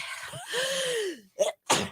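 One person gives a sharp, close sneeze after a drawn-in breath, followed by a second short burst, inside a radio station studio.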